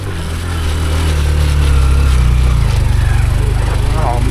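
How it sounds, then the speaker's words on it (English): Honda Trail 125 motorcycle straining in dirt with its single-cylinder engine held at a loud, steady drone, settling into a rapid pulsing chug toward the end, close by, with faint talk underneath. "listen to the engine of the Trail"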